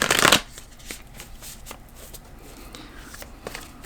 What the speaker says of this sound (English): We'll just pull a couple more cards.